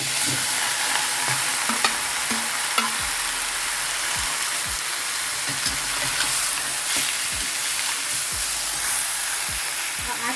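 Pork ribs for kaldereta sizzle and fry in a hot pan, a constant hiss punctuated by repeated scraping stirs and clinks of a utensil, close and fairly loud with no talking.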